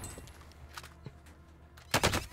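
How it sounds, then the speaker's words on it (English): Gunfire in the Warzone video game, a faint spread of shots through the clip, then a loud close burst of rapid fire near the end. "I'm getting shot from behind"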